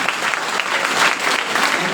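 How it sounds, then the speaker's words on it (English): Steady, dense applause from a student audience at a pre-university college event, many hands clapping together in an even wash with no breaks. "Please give them a big round of applause."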